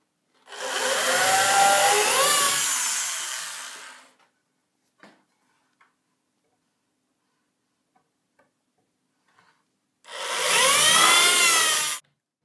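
A drill bores pilot holes into reclaimed wood boards for a bedside table, two separate whirring bursts of about four and two seconds with a quiet pause between them holding a few faint knocks.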